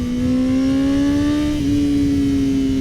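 A 2021 Honda CBR 1000 RR-R SP motorcycle engine holding a steady, loud drone under throttle, pitch creeping slightly upward and then settling, with no talk.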